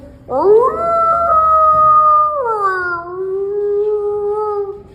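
A voice imitates a wolf, one long sustained howl that rises, holds, then drops to a lower drawn-out tone.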